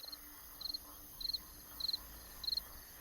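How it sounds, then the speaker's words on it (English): Crickets chirp in short regular bursts of a few pulses each, about five bursts at even intervals, fairly faint over a quiet outdoor background. "crickets."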